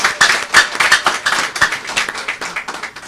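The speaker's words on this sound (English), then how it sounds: "Let's clap for the National Ambulance" An audience claps together, a brisk and fairly dense round of applause from many hands that holds steady for a few seconds.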